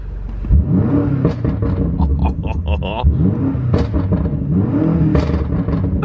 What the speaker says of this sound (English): We have an exhaust button down there, so let's turn it off and give it a rev.